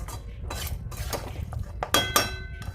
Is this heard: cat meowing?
no